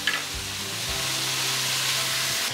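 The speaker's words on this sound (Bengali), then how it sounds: "এখনই এর মধ্যে দিয়ে দেব গ্রেট করা আদাটা," Grated ginger frying in a pan for Kashmiri pulao makes a steady, close sizzle that holds through the clip, with a low background hum underneath.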